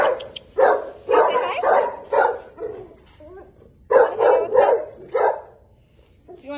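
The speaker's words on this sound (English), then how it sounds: "You want to say hi to these nice doggies?" Shelter dogs bark in rapid, loud clusters close by, yips and woofs overlapping in several bursts with brief quiet gaps between them.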